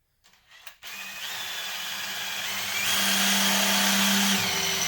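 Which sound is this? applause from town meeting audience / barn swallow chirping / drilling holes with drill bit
drilling holes with drill bit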